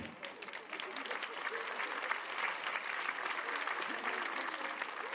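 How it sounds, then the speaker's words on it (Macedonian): An audience applauds in a continuous, even patter of many hands, fairly soft and distant, holding steady throughout with a faint murmur of voices underneath. "Одма, аплауз, браво, добре."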